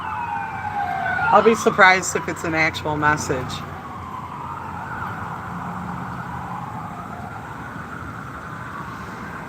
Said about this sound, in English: if you guys hear the sirens going off, that was an ambulance.